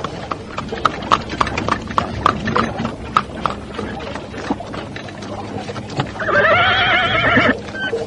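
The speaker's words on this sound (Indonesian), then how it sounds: "mendadak dari ujung jalan muncul sebuah kereta yang dikawal 10 orang penunggang kuda" Horse hooves clip-clop steadily as mounted riders escort a carriage down a road, with a horse's loud whinny breaking in near the end.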